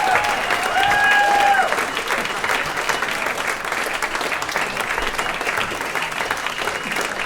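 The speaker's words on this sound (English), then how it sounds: "And a big round of applause for 6 Point Brewing." A crowd at a classical music beer event applauds a brewery, a loud, dense clapping wash; a short whistle cuts through early on, then steady clapping continues to the end.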